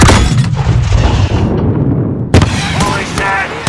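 In a Call of Duty match, a grenade explosion is followed by heavy gunfire: a loud, close boom with a long rumbling tail, then a renewed blast of shots and booming fire, with a voice shouting over the din.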